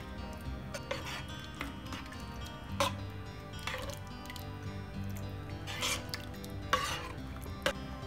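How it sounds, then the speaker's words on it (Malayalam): A potato and beef curry boiling in a pot, with soft bubbling, wet squishing and occasional spoon or pot clinks at close range, with no talking. "അരപ്പ് ഇതൊക്കെ തിളച്ച് തുടങ്ങി"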